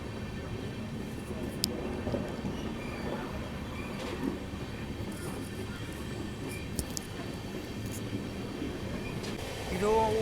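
The Vishwamanava Superfast Express, a brand-new LHB rake, pulls out of Halnavar station platform 1 with a steady low rumble of wheels and clanks, faint squeals, and someone talking over it.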